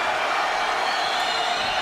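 Steady roar of a French crowd cheering at a GLORY 47 kickboxing fight, a dense continuous wall of voices at full level for the whole stretch, with no single voice standing out.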